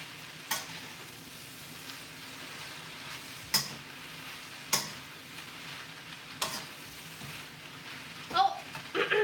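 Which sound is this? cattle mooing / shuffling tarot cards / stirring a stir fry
stirring a stir fry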